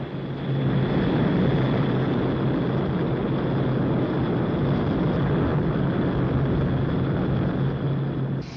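A Hawker Siddeley (Avro) 748 short-to-medium-range 62-seat propeller airliner drones loudly and steadily, its engine hum constant with a low throbbing tone, close by and alone without voices.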